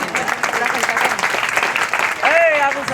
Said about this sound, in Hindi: आप लोग तालियों से स्वागत करें